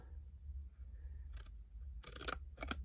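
Scissors cut through card along pre-scored lines, giving a few short crisp snips that cluster toward the end, close and moderately loud over a quiet low room hum.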